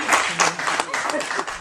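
A brief round of clapping from a small group, with uneven claps overlapping for a little over a second and fairly close.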